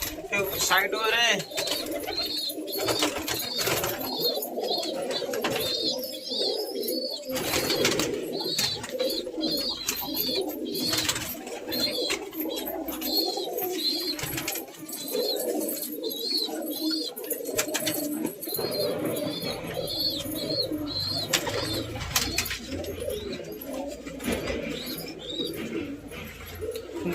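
Pet pigeons coo in repeated soft, throaty rolls nearby, mingled with occasional chirps and wing movement, while someone talks over them almost continuously.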